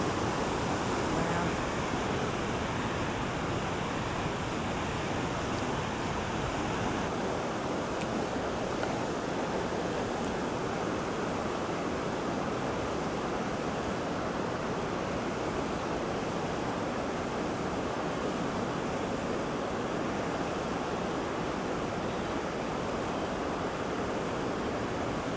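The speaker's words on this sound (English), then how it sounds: "Here we are on the place where the water meets rocks." The Sava River rushes over rocks at a fishing spot, a loud, steady broadband roar of water that continues unbroken throughout with no voices.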